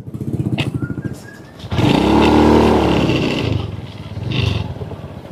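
A motorcycle engine revs up loudly nearby, rising to a sustained roar and then settling back to a rough idle.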